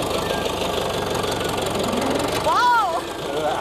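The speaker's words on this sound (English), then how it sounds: "Let's stop the tractor." A tractor engine chugs steadily with a rapid knocking rhythm, close and loud, with a brief voice rising over it near the end.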